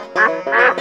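A duck gives two or three quick, nasal quacks, loud and close, in a short burst with nothing else around it.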